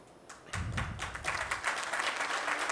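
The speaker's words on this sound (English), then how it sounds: "So you're clapping." An audience at a fifth-grade graduation ceremony begins with a few scattered claps that quickly swell into fuller, faint-to-moderate applause, continuing steadily to the end.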